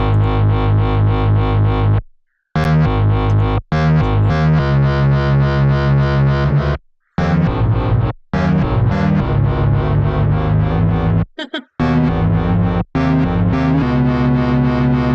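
Loud, heavily distorted synth bass playing a driving line that jumps between octaves, stopping abruptly several times with brief silences between phrases.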